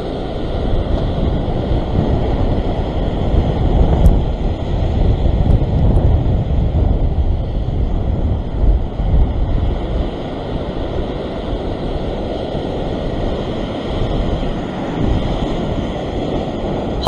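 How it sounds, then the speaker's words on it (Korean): Ocean waves wash steadily against a rocky fishing spot on the shore, a continuous loud surf roar mixed with wind buffeting the microphone, with no speech throughout. "파도가 요 정도만 계속 쳐주면 괜찮은데"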